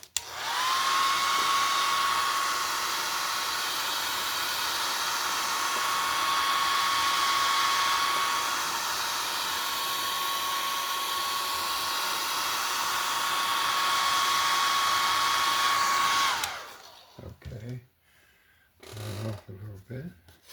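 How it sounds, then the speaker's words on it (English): A hair dryer blows steadily and loudly for about sixteen seconds, drying acrylic paint on a 12x24 canvas, then cuts off, leaving brief handling noises. "Let me see if I got my dryer."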